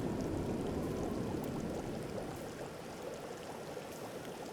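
Water boiling in a pot in the survival video game The Long Dark: a steady, dense bubbling rush that fades slightly partway through, heard alone without voices.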